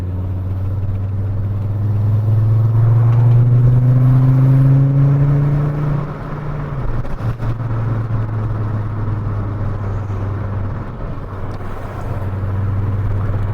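Volkswagen Mk4 Golf with a V5 engine revving hard while driving, a loud, rising low engine drone that climbs and holds for several seconds, then drops back to a steady rumble.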